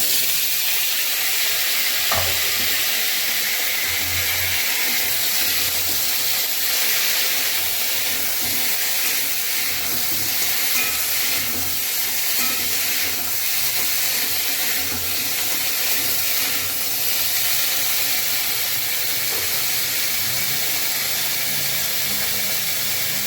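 Diced potatoes fry in hot oil with a bay leaf, making a loud, continuous sizzle and hiss that runs throughout, with occasional stirring and scraping sounds mixed in.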